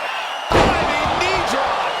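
A wrestler's diving knee drop from the top rope lands on an opponent with a single sharp, booming slam in the ring, followed by crowd noise and a commentator talking.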